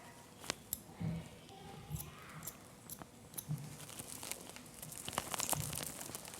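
Scissors snip through a child's bangs in a series of faint, close crisp cuts at an irregular pace, with light rustling of hair in between.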